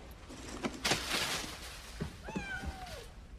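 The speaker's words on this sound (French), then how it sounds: "Un chat?" A cat gives a drawn-out meow near the end, faint and close, after a few soft knocks and rustles in a quiet room.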